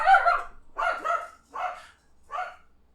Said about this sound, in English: That was the camera clicking, which caused my dog to bark.